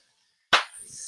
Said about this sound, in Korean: 이게 탁탁 튀는 소리가 나거든요.